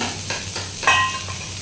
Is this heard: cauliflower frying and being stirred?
yes